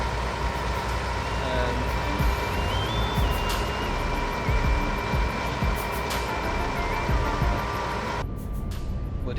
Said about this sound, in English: you can hear the engine really loud outside